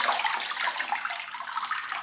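Wax-resist batik fabric lifted out of an indigo dye bath, liquid steadily splashing and dripping back into the vat in a continuous close watery patter.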